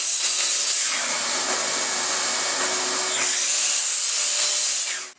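A power saw cutting the wooden bottom piece for a birdhouse, a loud continuous whine that stays steady through the cut, then quickly winds down.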